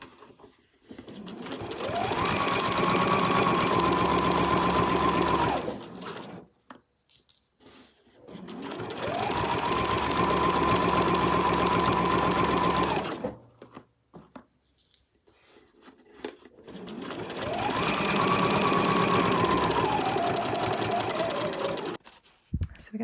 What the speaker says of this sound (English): And just as before, sew that pocket in place.